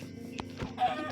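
Chicken clucking in Minecraft, a few short clucks close by over a steady background hum of game sound.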